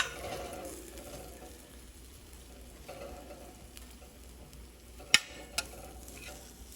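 Cauliflower roasting in a pan gives a steady, close sizzle and crackle that runs throughout, broken near the end by two sharp metallic clinks.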